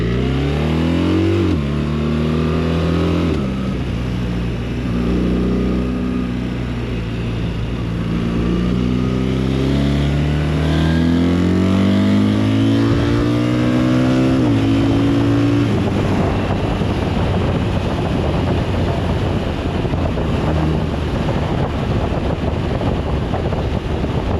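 A BMW R1300 RT motorcycle accelerates hard, its engine climbing through rising revs with gear changes, loud and close under heavy wind rush that grows as speed builds.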